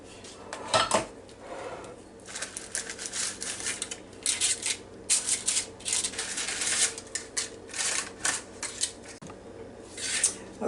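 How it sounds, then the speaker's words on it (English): A metal muffin pan is handled in a kitchen while apple pie muffins are prepared, giving irregular clinks, scrapes and rattles, some sharp and close, spread across the whole stretch with no talking. "Now we're just going to take a muffin pan"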